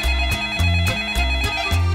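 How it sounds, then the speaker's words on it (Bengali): A cartoon phone ringtone plays a bright, looping electronic melody with steady pulsing bass beats, loud and close, repeating several times without any voices. "এই সময় কে আবার ফোন করলো?"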